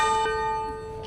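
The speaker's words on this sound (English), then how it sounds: "Bell ring." A bell rings once with a clear sustained tone and stack of overtones, decaying slowly over about a second in a quiet room.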